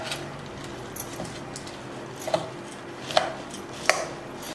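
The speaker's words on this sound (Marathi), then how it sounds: "आता याला आहे ना चांगलं मिक्स करून घेऊ." Street-style wet bhel puri, dressed with tamarind water and green chutney, is mixed in a bowl, giving soft rustling and a few sharp clinks of a spoon against the dish, fairly close and without talk.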